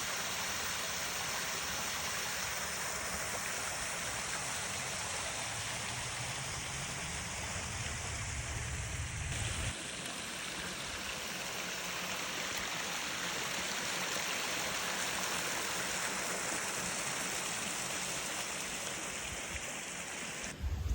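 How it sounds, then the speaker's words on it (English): Small waterfall beside a forest trail in Hocking State Forest, a steady, full rushing and splashing of falling water heard close by, continuous throughout with no talking. "we're coming up on a little waterfall"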